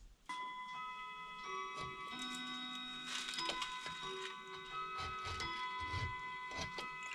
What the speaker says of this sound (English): I hope that clock doesn't annoy y'all.